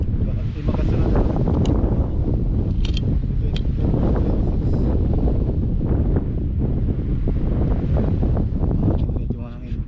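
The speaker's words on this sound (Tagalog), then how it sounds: "Medyo mahangin. malakas ang hangin." Strong wind buffets the microphone outdoors during a hunt in the Eastern Cape, South Africa, a loud continuous rumble with gusts throughout, with people talking faintly underneath.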